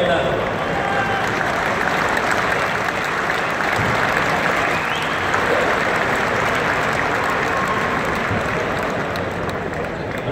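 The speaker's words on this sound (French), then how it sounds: "tous les éleveurs et les exposants doivent nous donner énormément d'applaudissements" Spectators at a Holstein dairy cattle show in an indoor arena clap in sustained, even applause that fills the hall, with faint background murmur mixed in.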